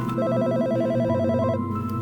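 Telephone in a phone booth in the Mojave Desert rings with a fast warbling electronic trill lasting over a second, clear and steady over a low humming bed.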